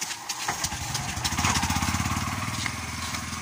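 A Bajaj four-stroke petrol three-wheeler engine catches after its carburetor was cleaned, settling into a steady, fast, close-up pulsing chug that stays loud and continuous.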